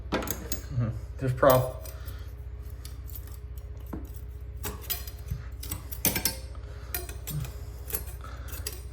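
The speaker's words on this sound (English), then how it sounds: "Just scraping it up with a knife." A knife scrapes up old sealant during the replacement of a wall-hung toilet, giving repeated short scratchy strokes and clicks at close range, with brief speech.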